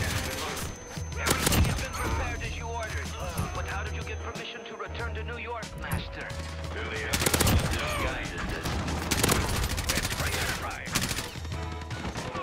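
Rapid video game gunfire from dual pistols, dense bursts of shots running almost continuously over loud game music and effects, with a voice talking over parts of it.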